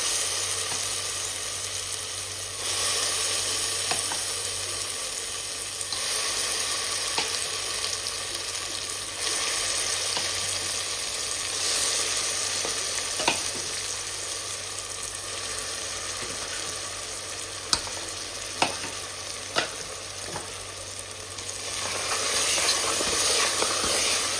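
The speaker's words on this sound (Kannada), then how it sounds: "ಇದು ರೋಸ್ಟ್ ಆದಮೇಲೆ ನಾನಿಲ್ಲಿ ಪೇಸ್ಟ್ ಮಾಡಿ ಇಟ್ಕೊಂಡಿರೋವಂಥ ಟೊಮ್ಯಾಟೋನ ಹಾಕ್ಕೊತಾ ಇದ್ದೀನಿ" Puréed tomato for a tomato pickle sizzles in a pan over roasted ingredients, giving a long, even frying hiss. A few sharp utensil taps sound near the end.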